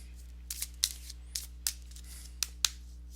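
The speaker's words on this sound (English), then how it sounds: "let me go ahead and shuffle one chakra oracle card" A chakra oracle card deck is shuffled in brief, soft bursts of riffling and flicking, scattered irregularly over a quiet background hum with no talk.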